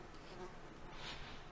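Bees swarm around a nest in a video game, a faint continuous buzzing drone that holds steady throughout.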